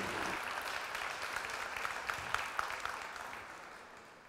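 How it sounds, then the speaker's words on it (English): An audience gives a round of applause at a talk on parish renewal, a dense crackle of many hands with a few sharper claps standing out, slowly fading toward the end. "Please give a round of applause to him"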